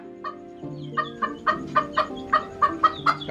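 An ornamental chicken clucks in a quick series of about ten short, close clucks that grow a little louder and sharper toward the end, over a faint low background hum.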